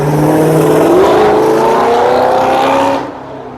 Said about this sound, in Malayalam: വണ്ടി പോയതാട്ടോ